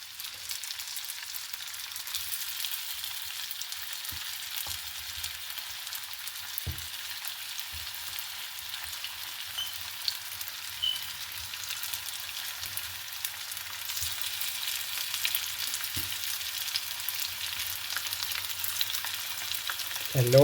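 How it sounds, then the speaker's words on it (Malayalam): Chicken pieces frying in hot oil in a pan give a steady, dense sizzle that runs throughout, with occasional stirring knocks and a slight swell toward the end, no speech. "ചിക്കൻ ആഡ് ചെയ്ത് കൊടുക്കുകയാണ്."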